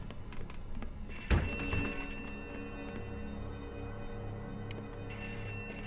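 A telephone rings inside the horror video game Pineview Drive, a bell-like tone over a steady background hum with a sharp thump near the start, heard alone without talk.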